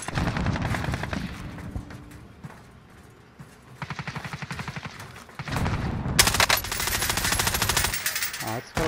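Gunfire in a battle royale video game, rhythmic bursts of automatic shots at moderate distance, then louder, denser rapid fire toward the end.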